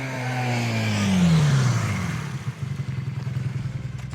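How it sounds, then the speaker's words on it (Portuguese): A motorcycle rides along the Fernão Dias highway, its engine note rising and then dropping through a shift before settling into a steady, rough drone with wind rumble, close and loud, with no talking. "Eu resolvi dar um passeio de moto e passar um pouco pela rodovia Fernão Dias"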